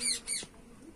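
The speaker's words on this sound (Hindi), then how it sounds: "तोता बोल रहा है हमारा मिठू।" A pet parrot squawks twice in quick harsh bursts, close and fairly loud, then goes quiet with faint room noise after.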